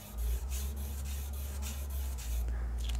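Barbecue charcoal rubbed across paper while drawing makes close, scratchy strokes repeated in a steady rhythm, about eight passes, over a low background hum.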